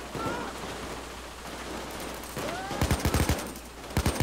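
Gunfire in the heist shooter Payday 2 comes as a quick cluster of sharp shots near the end, preceded by a noisy game background.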